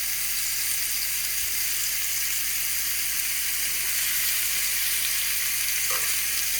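Steak searing in a hot pan, giving a loud, continuous hiss and sizzle that holds steady throughout with no talk over it.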